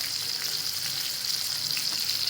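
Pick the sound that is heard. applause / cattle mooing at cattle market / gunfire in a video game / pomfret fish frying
pomfret fish frying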